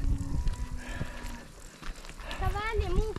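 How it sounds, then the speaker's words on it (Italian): Cows low in a high mountain pasture, where horses also graze, near Rifugio Troncea in the Alps. Voices talk nearby, and a drawn-out moo rises and falls clearly near the end. "Cavalli e mucche!"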